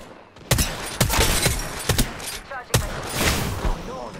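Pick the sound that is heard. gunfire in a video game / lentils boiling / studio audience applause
gunfire in a video game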